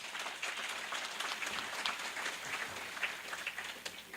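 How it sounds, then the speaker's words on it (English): A breakfast seminar audience applauds in a soft, fairly distant round of clapping, steady and scattered, with no talk over it. "Give yourselves a round of applause."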